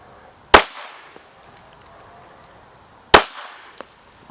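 Two sharp, loud pistol shots fired at an IDPA target while zeroing a pistol dot, spaced about two and a half seconds apart, each with a short decaying tail.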